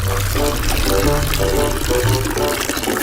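A full bucket of water poured out in a continuous splashing gush, loud and close, with voices talking over it.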